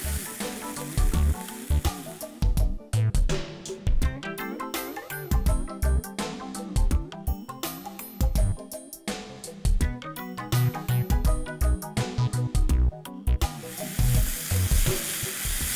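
Soya dill and potato curry sizzling in a pan, a constant frying hiss broken by loud, rhythmic clanks and scrapes of a spoon stirring against the metal. No talking.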